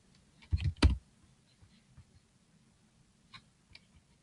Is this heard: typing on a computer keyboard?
yes